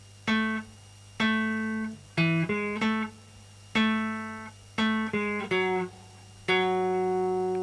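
A plucked bass guitar line from a song mixing sustained low notes with quick runs of shorter ones, played alone at a steady moderate volume.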